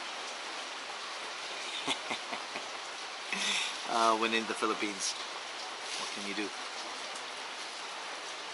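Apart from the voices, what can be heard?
rain falling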